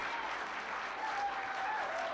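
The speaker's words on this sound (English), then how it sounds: "Everyone applauded" Steady audience applause, a dense continuous patter of many hands clapping at moderate loudness throughout, with no talk over it.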